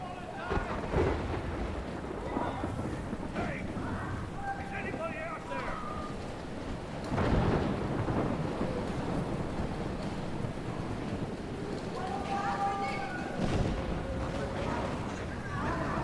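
Storm from the video game Life is Strange: a heavy rain and wind roar with low thunder rumbles swelling around the middle and end, heard beneath intermittent speech.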